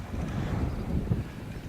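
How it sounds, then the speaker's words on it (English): Steady wind at a beach in Thailand, a low continuous rumbling buffet against the microphone with no distinct gusts, filling the short stretch without pause. "we got a nice little 10-mile-an-hour wind going"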